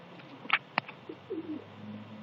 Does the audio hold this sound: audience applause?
no